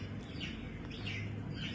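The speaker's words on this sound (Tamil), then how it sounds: "ஸோ பொரிஞ்ச கோழி குஞ்சு எல்லாமே கடக்நாத்து." Newly hatched Kadaknath chicks peep faintly in a homemade incubator, a few thin high chirps repeating at a slow, uneven pace over low background hum.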